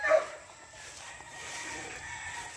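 A brood cock rooster crows faintly at the start, a single short call at a distance, followed by quiet farmyard background.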